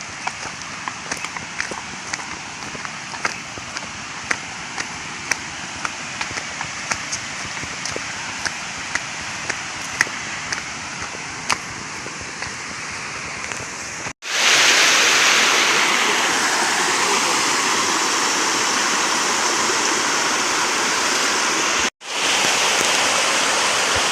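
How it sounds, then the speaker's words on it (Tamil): Fast-flowing stream water in the Kolli hills, a steady rushing wash with faint clicks, growing much louder and closer about midway before a brief cut. "தண்ணி ஓவராக போகுதுடா, கிராஸ் பண்ணுறது கஷ்டம் நினைக்கிறேன்."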